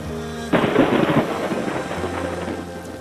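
A sharp clap of thunder breaks in after a quiet moment, followed by a long rolling rumble with steady rain hissing underneath.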